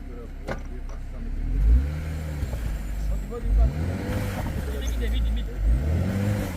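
An off-road car engine on a club trail revs in several rising and falling surges, deep and close, with voices talking over parts of it.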